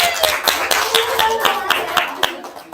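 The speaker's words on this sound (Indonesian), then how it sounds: "tepuk tangan untuk semuanya." Hands clap in a steady, sharp rhythm, about a dozen distinct claps over a few seconds, as a small classroom group applauds during a micro-teaching lesson on financial risk in banking.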